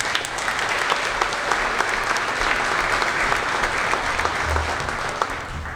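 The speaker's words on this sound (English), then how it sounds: "We could just give them a round of applause" Audience applause at a midget auto racing hall of fame induction ceremony: dense, steady clapping from a sizable crowd, loud and sustained with no talk over it.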